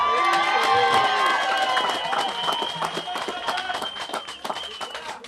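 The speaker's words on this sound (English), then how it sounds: "What a massive crowd." A massive crowd at an outdoor NDP political rally in North Sound, Virgin Gorda, roars with cheering, whistles and clapping. The noise is loud and sustained at first, then eases into scattered claps and shouts.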